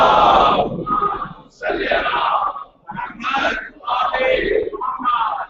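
A large crowd at a Muharram majlis answers a call with loud massed salawat chanting, several surging group shouts in a row with brief dips between them.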